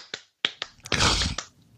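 A few sharp hand claps and snaps, played as a quick sound effect on a trivia podcast, close and crisp, with brief gaps between hits and a longer rough burst in the middle.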